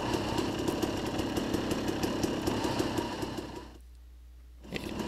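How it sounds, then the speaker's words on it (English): Buzzing two-stroke dirt bike engines, chainsaw-like, whine steadily in the distance as they climb a hill, then the sound cuts out briefly before resuming. "you can hear what sounds like a chainsaw. That's two strokes trying to get up the hill."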